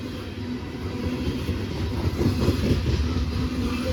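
A Norfolk Southern freight train of hopper cars rolls past close by, a continuous rumble with rhythmic clickety-clack of wheels over rail joints, swelling slightly midway.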